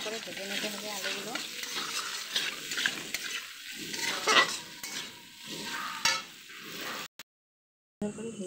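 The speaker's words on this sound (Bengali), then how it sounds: "এখানে আলুগুলো ভাজা হচ্ছে" Boiled potatoes broken into pieces fry in oil with salt and turmeric, a steady close sizzle with repeated scraping stirs of a spatula across the pan and no talk.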